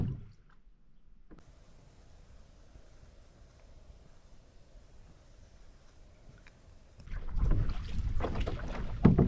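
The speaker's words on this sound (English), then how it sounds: "Paddling in to get a closer look." A canoe moves across a lake near rock cliffs, with quiet soft water and wind sounds that give way to louder splashing and rushing at the end.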